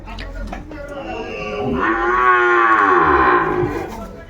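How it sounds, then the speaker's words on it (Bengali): A Sahiwal cow lets out one long, loud moo close by at a cattle market, rising and then fading, over a low murmur of background noise. "আমরা দেখছি সামনে বেশ কিছু গরু কালেকশন করছে আমাদের খোকা ভাই বিভিন্ন হাট ঘুরে ঘুরে কালেক"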